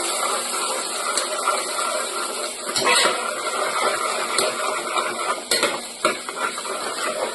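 Onion frying in a pan while a spoon stirs it, a steady sizzle under repeated scraping clinks of metal against the pan, close and fairly loud throughout with no talking.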